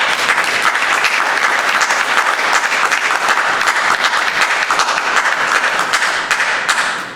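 A church congregation applauds in loud, dense, steady clapping that holds for several seconds before easing off at the end.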